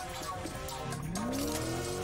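A car in the video game Fortnite drives near a bridge, its engine rising in pitch with a tire-squeal-like whine, loud and close amid game sounds with a player talking.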